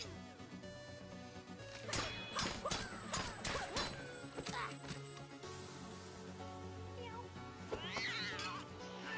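A cat meows in the side-scrolling shooter Not A Hero, the short cries mixed into busy game effects with crashes and thuds, while someone talks over the action.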